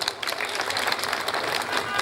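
Audience applause at a Bengali song performance event, a steady dense wash of clapping from a crowd across the whole stretch, fairly even in loudness with no clear voices standing out.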